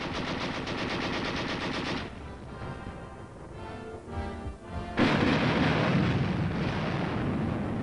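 Korean War U.S. tank gunfire: dense bursts of rapid automatic firing, loud and sustained, briefly thinning into scattered shots and booms before another heavy burst resumes, with no voices.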